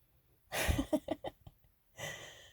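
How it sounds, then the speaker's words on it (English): Several close, audible breaths in and out, with a sharp intake followed by a few shorter huffs, then a softer exhale after a pause. "You might have noticed me breathing"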